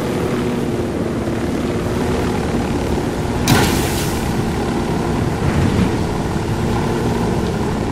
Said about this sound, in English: There's a chopper circling him.